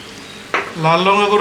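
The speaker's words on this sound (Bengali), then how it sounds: "এবার দিব গুঁড়ো মশলা। এটা হচ্ছে লাল লঙ্কার গুঁড়ো" Ground red chilli and Kashmiri chilli powder hitting hot oil in a pan of tawa chicken gravy, a sudden sharp sizzle that swells into steady close frying.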